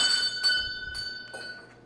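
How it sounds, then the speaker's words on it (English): A small bell rung as a game-show cue, several bright metallic strikes with ringing tones that fade, close and clear with nobody talking. "So ring the bell for Aaron, man."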